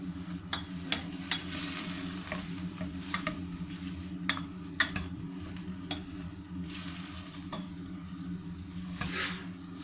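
Meat cooking with tomato paste in a pan, a steady low sizzle and simmer running throughout, with occasional scrapes and clicks of stirring close by; no talking.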